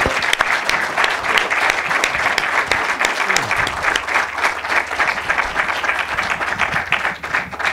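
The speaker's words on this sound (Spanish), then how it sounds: "Pediría, por favor, para los dos expositores un fuerte aplauso" Loud, sustained applause from a debate audience, honoring two speakers at a university mining debate; dense clapping fills the whole stretch evenly, with no speech on top.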